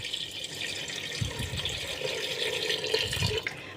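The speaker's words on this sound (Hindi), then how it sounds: "और मैं इसमें डालूँगी ये पानी।" Water poured into a kebab mixture during home cooking, a steady splashing, gurgling pour that runs close and moderately loud for several seconds with no talking over it.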